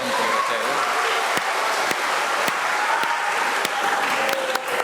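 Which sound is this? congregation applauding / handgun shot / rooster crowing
congregation applauding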